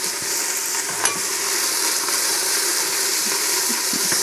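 Picadillo with tomato puree sizzles and fries in a Ninja Foodi pot while being stirred, a steady dense crackling hiss with a faint knock from the utensil near the start.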